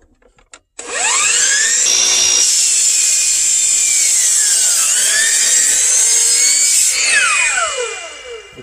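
A power saw cuts wood pieces to a fixed 17.5-inch length against a stop block on a straw bale house build, a single loud, sustained whine with the pitch sagging mid-cut, close by, with no talk.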